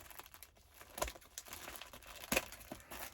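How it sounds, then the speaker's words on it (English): Plastic yarn shipping package being cut open, short crinkling and tearing bursts with a couple of sharper snips, close and quiet, no talking. "So let me go ahead and cut this open."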